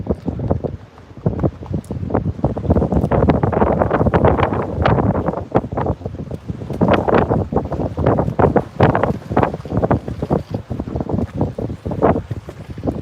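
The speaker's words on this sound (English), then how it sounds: "Windy today. I'd say we got about 15-mile-an-hour straight winds right now." Gusty wind of about fifteen miles an hour roars across the water around a boat riding at anchor. It buffets the microphone in loud, uneven bursts throughout, with no voices.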